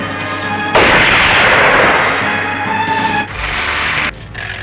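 Heavy cannon fire in a Hindi action film, a loud booming blast followed by sustained roaring rumble and a second burst, very close and dominant with no speech.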